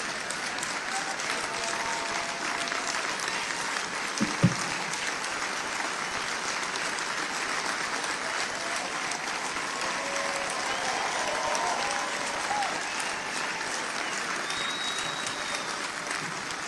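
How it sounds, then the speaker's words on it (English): Sustained audience applause for a standing ovation at a religious-political rally, steady and dense throughout with one sharp louder clap spike early on, no voices over it. "That should get an applause. Thank you very much. Standing ovation."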